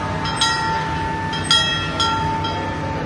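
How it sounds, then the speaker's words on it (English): A Six Flags Fiesta Texas Railroad train passes at the amusement park, a steady rolling rumble with a few sharp metallic squeals and clanks, fairly loud and close, with no talking. "With a view of the Flags Fiesta Texas Railroad."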